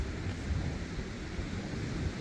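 Steady low rumbling wind buffets the microphone throughout, a continuous blustery roar with no voices, at a camp in Baja.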